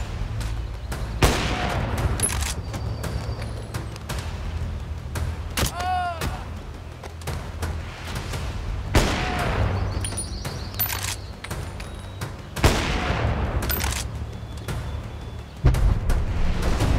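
Sniper rifle shots in the Bonelab VR game, a series of sharp loud cracks spaced a few seconds apart, each followed by brief rumbling echo, over a steady low background hum with occasional clattering.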